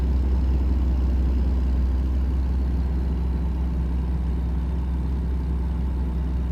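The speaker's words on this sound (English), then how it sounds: "is the engine burble a little bit loud?" A car engine in a driving video game idles and burbles steadily with a deep low rumble, holding an even, fairly loud level throughout with no talking.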